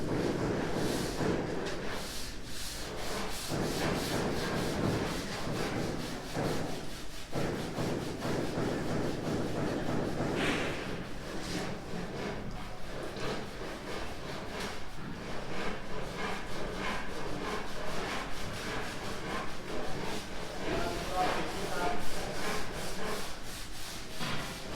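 A rag rubs a coating onto surfaces at a house build in the Philippines, spread thin over the big spots, giving a steady, close scrubbing swish that runs throughout with small shifts in rhythm.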